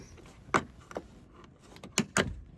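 Small plastic trim panel being pried out beside the trunk door weather stripping of a Chevy Tahoe, giving a few sharp plastic clicks and snaps close by, with two louder pops near the end.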